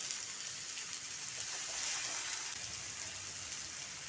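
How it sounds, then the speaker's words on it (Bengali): Diced potato and tomato sauté with spices in a pan, giving a soft, steady sizzle and crackle at low volume with no voices. "আলু টমেটোর সাথে মশলাটা ভালোভাবে কষিয়ে নেব।"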